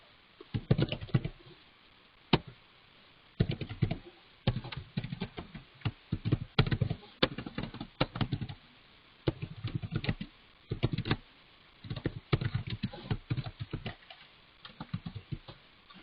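Fingers type on a computer keyboard while code is written for SAPUI5 routing in Business Application Studio, giving irregular bursts of close, light keystroke clicks with short pauses between them and no talking.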